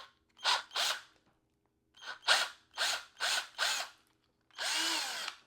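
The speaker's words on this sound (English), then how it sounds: "looks like I'm going to have to drill into this one" A power drill bores into a wooden parrot toy block held in the hand: five short whirring bursts in quick succession, then a longer, steady run, close and clear with no talking.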